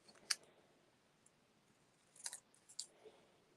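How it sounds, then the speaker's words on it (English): Scissors snip a stamped paper card, trimming it closer: a crisp snip, then a small cluster of quick cuts a couple of seconds later, faint and close in a quiet room. "just going to trim that a little bit closer"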